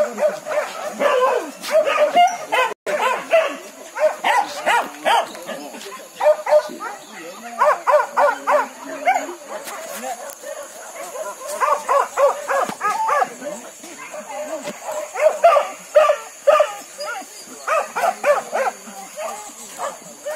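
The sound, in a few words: hunting dogs barking during wild boar hunt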